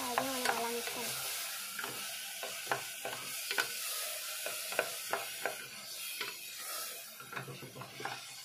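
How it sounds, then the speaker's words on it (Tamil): Three tomatoes sauté in a hot pan for a pasta dish, sizzling steadily while a spoon scrapes and stirs in repeated, fairly close strokes throughout. "ஸோ இது நல்லா வதங்கட்டும்."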